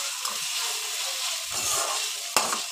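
Tomato and ginger garlic paste frying in a pan for ugani, a steady loud sizzle broken by a couple of spoon stirs and one sharp scrape.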